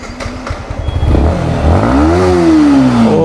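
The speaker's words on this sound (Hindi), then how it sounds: "सो गाइस स्टार्ट करते हैं अब इस बाइक को, ब्यूटीफुल सा बाइक को" A Yamaha MT15 V2.0 motorcycle cranks with a short clatter, fires up and revs once in a swelling, close engine note that then settles into a steady idle, with no talk over it.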